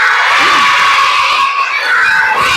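A group of children shout together in a loud, continuous burst, with crowd-like cheering filling the space and clapping lost in the din.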